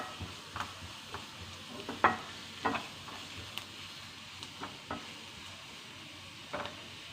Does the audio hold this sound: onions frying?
yes